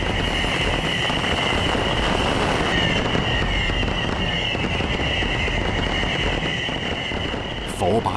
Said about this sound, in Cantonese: 萬千支煙花瞬間齊發，現場一片火樹銀花。